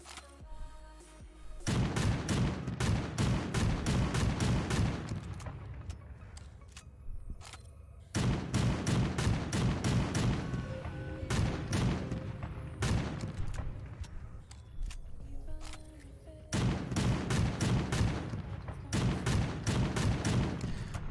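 Rapid bursts of enemy gunfire in the shooter game Creative Destruction, dense volleys of repeated shots in several loud clusters separated by short lulls, with no talk over them.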